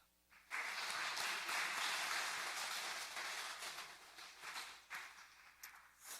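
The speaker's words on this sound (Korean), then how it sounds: "옆에 있는 사람을 위해서 축복하고 박수 한번 하겠습니다." Congregational clapping fills a church during an early-morning service, a loud even rush of many hands starting suddenly, then thinning into scattered uneven claps that fade toward the close.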